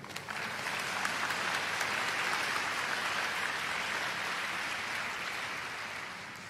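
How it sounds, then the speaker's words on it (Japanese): Sustained audience applause at a press-open karate training session for the French team, a dense, even wash of clapping that holds steady for several seconds before easing slightly at the end. "皆さん、大きな拍手ありがとうございました。"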